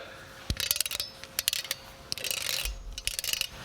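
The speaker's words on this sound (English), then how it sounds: "you actually hear the spring grinding" Quick gritty clicks and scraping rasps of the spring grinding inside an automatic center punch as its back is adjusted, irregular and close, with no talking.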